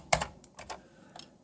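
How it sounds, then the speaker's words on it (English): One-handed typing on a computer keyboard while working on Commodore 64 code: a handful of quiet, uneven key clicks, spaced irregularly across a second and a half, with no voices. "It's the one-handed typing deal again."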